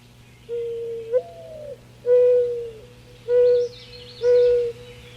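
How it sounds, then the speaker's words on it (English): A male mourning dove's soft, low cooing song, several drawn-out hoots in a slow rhythm, clear against a quiet background with faint distant chirps. "It is a mourning dove, and this is the male's mournful sounding song."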